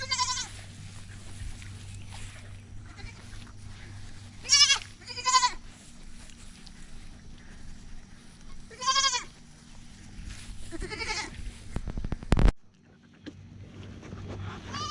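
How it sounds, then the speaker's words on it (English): Shetland lambs on a farm bleat in several distinct, wavering calls spread across the stretch, moderately close over a steady low rumble, with a sharp clack near the end before things go quieter. "So this is Fern and Zazu. They're two of our Shetland lambs."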